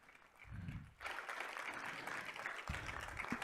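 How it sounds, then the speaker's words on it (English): An audience at a city commission regular meeting claps for volunteers, a burst of applause rising after a brief low sound and holding steady, moderately distant, with no talking over it. "let us go ahead and applaud them for their love and their service, their volunteer time"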